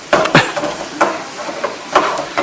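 Ground meat being chopped and broken up in a pan with a utensil, a series of irregular scraping, tapping knocks against the pan, close and moderately loud over a faint sizzle.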